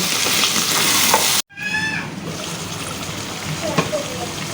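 Crab sizzles and is stirred in a pan with cumin powder, garam masala and salt, a loud steady frying hiss broken by a brief sudden gap, then more sizzling with occasional spoon clinks.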